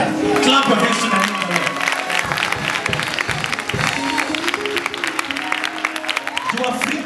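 Congregation at a Sunday church service clapping hands together in a loud, continuous wash of claps and crowd noise, with a voice speaking over it throughout.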